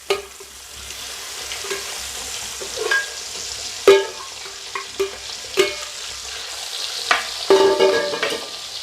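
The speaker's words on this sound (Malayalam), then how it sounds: "ഇനിയുണ്ടല്ലോ ബാക്കി നമ്മുടെ ഈ ബീഫും കൂടെ ഇട്ട് വറുത്ത് പോരാ" Pieces of beef for beef pickle frying in oil with a low sizzle, punctuated by sharp scrapes and clinks of a spoon stirring the pan.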